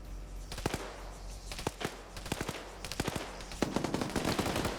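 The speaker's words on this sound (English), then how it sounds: "Now you got the 50 cal suppressing." Bursts of heavy .50 caliber machine gun suppressing fire in a large multiplayer Battlefield 6 military game match, sharp repeated shots in uneven clusters with scattered distant gunfire between them, no talking.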